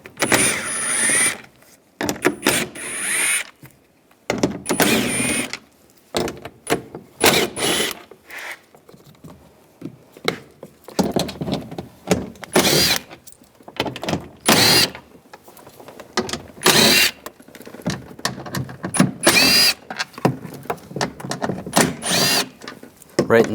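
A power tool with a 10mm socket backs bolts out of a 2011-2018 Ram 1500 front door in repeated short whirring bursts, close and loud, separated by pauses and handling clatter.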